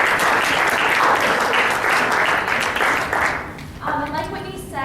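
An audience in a session room breaks into loud, dense applause for a speaker, many hands clapping together, then thinning out near the end as a few claps and voices trail off.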